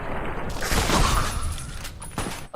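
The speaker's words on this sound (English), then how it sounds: "Oh, that was quite the little explosion." An explosion in Fallout New Vegas erupts as a noisy burst with crackling, scattered debris, fading into a rattling tail and a final thump.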